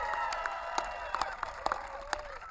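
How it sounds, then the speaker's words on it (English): A crowd in Eagle County claps and cheers to welcome the President at an outdoor conservation event. Voices shout and whoop over scattered, sharp handclaps in a lively, continuous wash. "Let's give a round of applause to the President of the United States."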